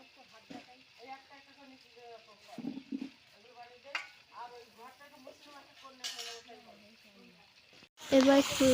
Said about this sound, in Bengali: এবার ফুলকপি ভেজে নেবো। এতে হালকা করে ভেজে নেবো।